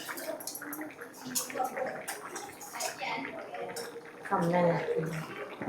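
Water pours and splashes into a cooking pot for vegetable biryani while a person talks over it, the gush swelling louder toward the end.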